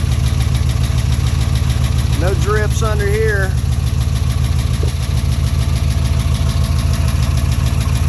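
The 5.7L Hemi V8 in a 2016 Dodge Charger R/T idles after an engine replacement, a steady low rumbling pulse with even rhythm, loud and close, while someone speaks briefly over it.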